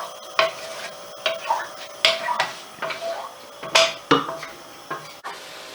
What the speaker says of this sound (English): Turn up the heat and start scraping it with the wooden spatula.